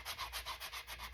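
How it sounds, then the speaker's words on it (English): A sanding block rubs back and forth over fabric in quick, even strokes, about nine close, soft scrapes. "sanding block, and as you can see, it brought the fibers out of the fabric"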